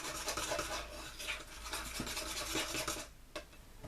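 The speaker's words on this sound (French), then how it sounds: "on va mélanger avec notre cuillère à café le chocolat, l'eau et le café soluble" A teaspoon scrapes and stirs melted chocolate, water and instant coffee in a medium bowl, close and fairly loud, with continuous rasping strokes and light clinks against the bowl before easing off near the end.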